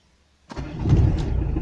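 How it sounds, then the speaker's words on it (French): A car engine turned over with the ignition key after a gearshift linkage repair, silence breaking into a brief crank that catches straight away and settles into a loud, close, steady running rumble. "Je vais remettre le contact et vous allez voir qu'elle va partir au quart de tour."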